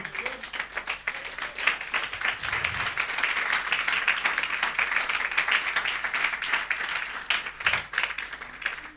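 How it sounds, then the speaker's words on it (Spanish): A congregation at a Spanish-language church service claps together for about nine seconds, a full, sustained rattle of hands with a few sharper individual claps standing out. "Aplauda al Rey de Reyes"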